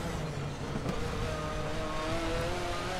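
A DTM touring car engine in a racing video game set at the Hungaroring, a steady loud drone with rising pitch as the car slides sideways, continuous and alone without talk.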